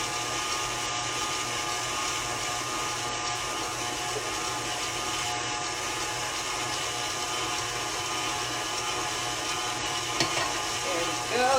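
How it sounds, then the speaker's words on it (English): An electric mixer whips French meringue with vanilla added, giving a steady, loud, continuous motor whir that holds level throughout, close by and unbroken by speech. "now I'm going to turn the mixer up"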